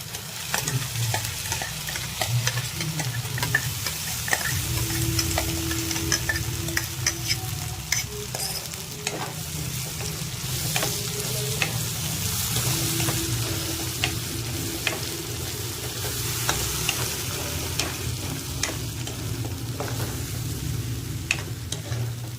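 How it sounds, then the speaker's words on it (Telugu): A masala paste for homemade chicken fry sizzles steadily in hot oil while a spoon stirs it with repeated scraping strokes. The frying is close and constant, with no voices. "మనం వేసుకున్నది పేస్ట్ ఉంది కదా అదైతే కొద్దిగా ఫ్రై అవ్వాలి"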